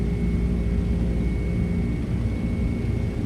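MD-11 cargo jet engines at takeoff thrust in a flight simulator, a loud continuous roaring rumble with a thin steady whine above it, unbroken and without talk.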